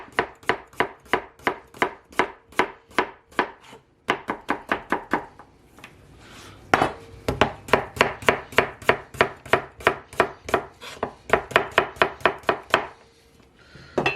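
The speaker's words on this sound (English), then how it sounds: "I'm going to cut in half and then slice it" A knife slices a large red potato into thin rounds on a cutting board, with steady, rapid chopping strokes that pause briefly and then resume in quick, evenly spaced runs.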